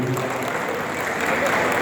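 An audience at a provincial conference of patwaris (land record officials) applauds before the chief guest, a state minister, producing a dense, even patter of clapping heard throughout, fairly loud and close.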